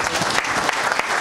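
Brief burst of audience applause at an anniversary celebration event, a dense, loud clatter of many hands clapping together.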